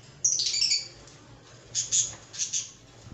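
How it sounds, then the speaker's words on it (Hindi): Lovebird chicks from a second clutch squawking in an aviary cage, several harsh shrill bursts close by, one early and a cluster later, over faint background noise. "अब ये लव बर्ड्स के सेकंड क्लच के चिक्स हैं"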